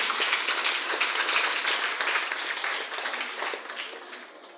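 Audience clapping at an appreciation service, a moderate wash of applause that holds steady and then gradually thins and fades toward the end.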